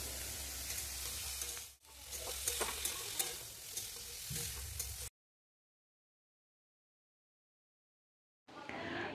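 Food sizzles as it is stir-fried in a pan while the cook turns it until well browned, a steady frying hiss with stirring scrapes for about five seconds, then silence before the sizzle briefly returns.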